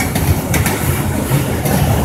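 A Norfolk Southern NS 288 westbound freight train, over 9000 feet long, rumbles past close by with a loud, steady roar and rhythmic clickety-clack of wheels over rail joints.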